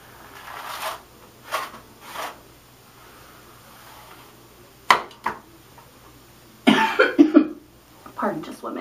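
A woman gives several short, muffled coughs spread out over a few seconds, then comes a clearer, louder cough along with brief rustling close by. It happens indoors, with soft room noise underneath.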